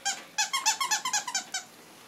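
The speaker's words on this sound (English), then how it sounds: "look what you got a squeaky toy." A dog's squeaky rubber toy squeaks about ten times in a quick, uneven series of sharp, high, close-up squeals, with no talking over it.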